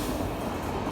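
A train rumbles past very close to the Val Rahmeh botanical garden in Menton, France, a steady loud roar of rolling wagons filling the whole moment.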